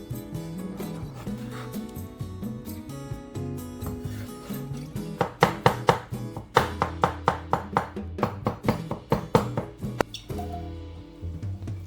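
Knife mincing cooked aubergine flesh on a board, a fast run of evenly spaced chopping taps over soft background music, building to a steady rhythm before trailing off.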